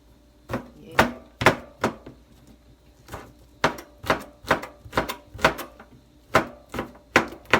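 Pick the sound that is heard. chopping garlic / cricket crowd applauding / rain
chopping garlic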